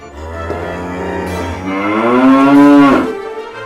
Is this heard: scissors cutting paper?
no